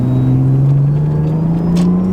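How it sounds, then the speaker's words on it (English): Manual Lexus IS300 engine rising steadily in pitch as it blips through a rev-matched downshift approaching a corner, a loud continuous drone heard from inside the car with no talking. "that was a nice rev match to a nice corner"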